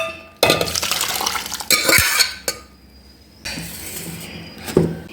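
Cooked Kerala ozhichu curry is tipped from a pressure cooker into a pot, with scraping spoon and clanking metal in several bursts separated by short pauses, close and fairly loud.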